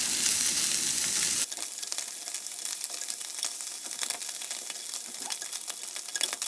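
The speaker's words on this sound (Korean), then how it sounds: "재단해놓은 스팸을 프라이팬에다가 노릇노릇하게 구워줄 거예요" Sliced Spam browning in a dry frying pan without oil, a loud hiss at first that settles into a steady crackling sizzle with scattered pops and faint utensil ticks.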